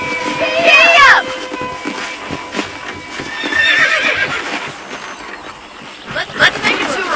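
Horse galloping in Red Dead Redemption, rhythmic clip-clop hoofbeats with loud whinnies and neighs, joined by game ambience and a faint rumble, all without speech.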